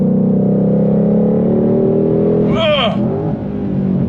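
A 2022 Ford Shelby GT500 accelerating hard on throttle, a loud, deep engine drone heard from inside the car, with a brief rising whine and a voice speaking over it partway through.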